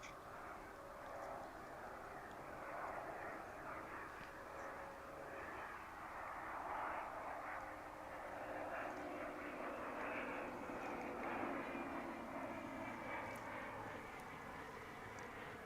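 A distant airliner on final approach at DFW Airport produces a faint, steady jet roar that swells slightly as it draws nearer, heard from afar under light outdoor background noise.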